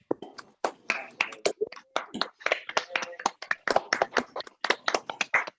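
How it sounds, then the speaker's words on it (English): Scattered applause from a middle school class heard over a video call, a handful of separate people clapping unevenly in bursts, the claps sharp and close, each coming through a different microphone. "give the Wednesday Middle School class a big round of applause"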